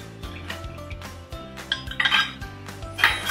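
Metal kitchenware clanks and clinks as a steel idli steamer stand is handled in a home kitchen, several sharp knocks and rattles at an uneven pace, fairly close.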